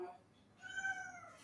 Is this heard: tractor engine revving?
no